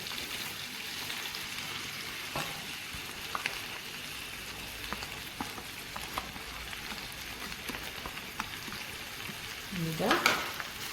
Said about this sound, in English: You stir that in until the onions are sauteed, not crispy burnt, just translucent.